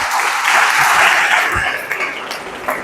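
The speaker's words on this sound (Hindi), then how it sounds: "एक बार और ताली बजाओ जोरदार" Audience clapping during a motivational talk on personality, a loud burst of applause from a crowd that gradually thins and fades toward the end.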